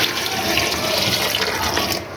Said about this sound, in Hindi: पानी डालेंगे हम इसके अंदर।